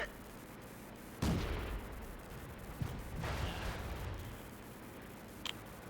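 Tank cannon fire in a tank video game: a few heavy booming shots spaced seconds apart over a low rumbling battle background, moderately loud, with no talk over them.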